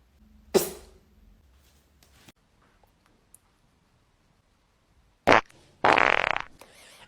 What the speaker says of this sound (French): Ah maman, t'as pété.